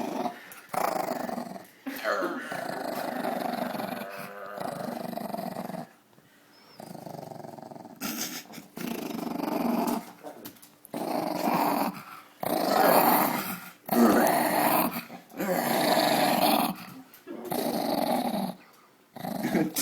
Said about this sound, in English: let's get some growling in here